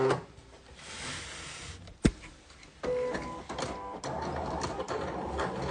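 A Silhouette cutting machine cuts a matte vinyl cake topper with its blade set to 3, giving soft mechanical whirring and short motor runs, a sharp click near two seconds and a steady hum toward the end.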